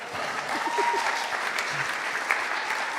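A church congregation at a Sunday service gives a round of applause, a moderately quiet, even patter of many hands clapping with a faint voice briefly audible underneath.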